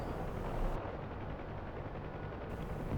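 Helicopter machine gun fire in the DCS combat flight game, a Huey trading fire with Hind gunships, heard as a continuous loud rattling barrage of rapid shots over dense engine and rotor noise, with no gaps.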